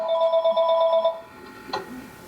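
A phone rings through an online committee meeting, its warbling electronic tone repeating in quick pulses for about a second, then giving way to faint background noise and a brief clunk.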